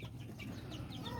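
Mother hens cluck softly among their chicks in a backyard coop, the low steady clucking continuous and close with faint chick peeps above it.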